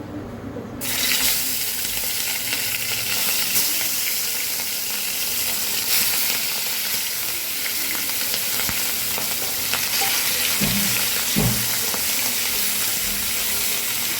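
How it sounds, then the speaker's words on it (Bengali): Pieces of hilsa fish going into hot oil: after a brief quiet moment a loud, dense sizzle erupts and keeps going, with occasional pops and small knocks and no speech. "তেলটা আমার এখানে গরম হয়ে গিয়েছে আমি এবার একে একে মাছটা ছেড়ে দেবো"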